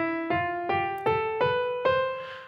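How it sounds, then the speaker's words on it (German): Five piano keys are struck one after another in a rising major-scale run, each note ringing and decaying before the next, evenly spaced and close, with no voices. "Das hier, das ist die Dur-Tonleiter."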